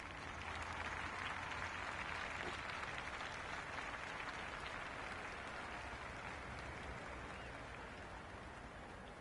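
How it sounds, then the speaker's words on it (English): A stadium crowd at a cricket match in the video game Cricket 26 roars and cheers steadily, forming a dense, even wash of noise that holds loud the whole way through with no pause. "The spectators are absolutely buzzing right now."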